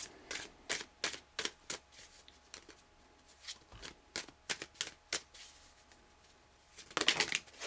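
Tarot cards shuffled close up in a quiet room, a string of short crisp riffling bursts with brief pauses and a longer flurry near the end, with no voices.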